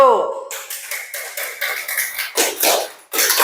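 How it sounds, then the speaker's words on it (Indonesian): Classroom applause for a student group: a short burst of scattered hand claps and taps, moderately close, with some shuffling, following a brief spoken voice at the start. "Tepuk tangan untuk kelompok 1."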